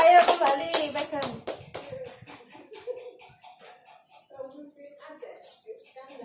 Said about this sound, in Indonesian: Tepuk tangan buat Syakira.